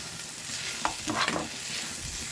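Vegetables with turmeric sautéing in a pan, with a steady sizzle and a few stirring scrapes partway through, close and fairly loud.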